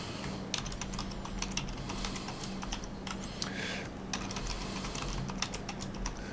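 Rapid clicking of keys on a computer keyboard while a password is entered during Qubes OS 4.0.3 setup, steady and close, with irregular keystroke bursts and no talking.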